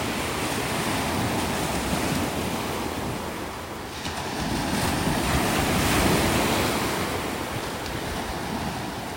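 Steady Gulf of Mexico surf washing onto a beach in North Naples, Florida, a broad continuous rush of waves with some wind noise, swelling slightly midway and no voices.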